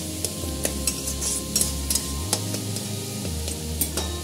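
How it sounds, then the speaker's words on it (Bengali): Egg omelette curry gets stirred in a pan over a low sizzle, with a spoon scraping and tapping against the metal in a quick, uneven rhythm. "এবার আমি একটু ঘেটে দিচ্ছি।"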